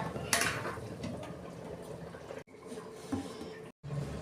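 A metal pot lid is lifted off after steaming hilsa fish, with a clatter of metal near the start, faint simmering hiss and a couple of small clinks afterward.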